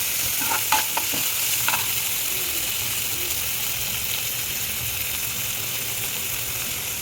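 Garlic sizzles in oil in a pan with onion and green chillies for veg Manchurian, a steady frying hiss throughout, with a few scraping stirs of a spoon near the start.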